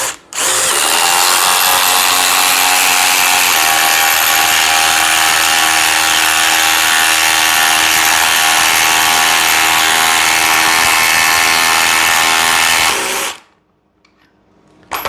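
Dewalt 860 impact driver driving a 10-inch, half-inch lag screw: one long, loud, continuous hammering run lasting about thirteen seconds, close up, then stopping abruptly into quiet.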